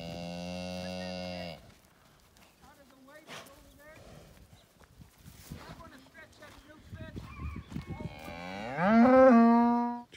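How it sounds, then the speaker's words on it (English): Two young bulls moo loudly and close by on a farm, one long harmonic bellow at the start and another rising call near the end, with footsteps and someone talking in between. "It's two baby bulls."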